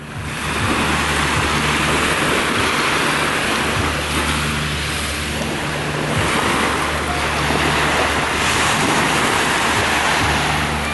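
Sea waves washing in at the port of Alanya, a loud, continuous surf rush mixed with wind buffeting the microphone, steady throughout with no talking.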